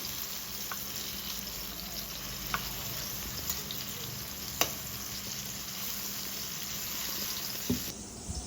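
Cashews frying in oil in a pan for an egg curry give a steady, close sizzle that runs unbroken, with a few faint clinks of stirring and no talking.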